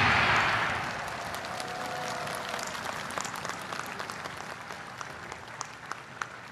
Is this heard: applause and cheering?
yes